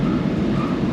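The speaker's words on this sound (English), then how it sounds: "Listen to that supercharger." A supercharged Dodge Challenger Hellcat of over 900 bhp passes on a race track, its engine a steady, loud, low roar with supercharger whine held throughout the brief moment.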